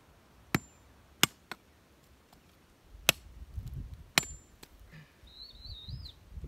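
Wood is cut with a few sharp, irregular chopping strikes to shape a hook for a snare trap, while birds chirp faintly outdoors.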